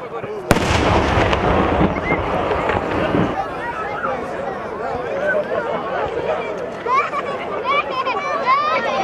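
A Ramadan cannon fires in Zenica with a single sharp, loud blast right after a countdown, followed by a crowd of people and children talking and shouting nearby.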